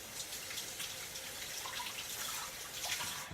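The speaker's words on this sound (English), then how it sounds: "Okay, rinse my hands off." Hands are rinsed under a running kitchen tap after mixing wet dough, a soft and fairly faint steady stream of water splashing into the sink.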